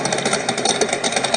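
A car engine with a hydraulic roller cam holds high revs around 6,000 RPM, a steady, dense buzzing roar with a slight rattle and no pauses.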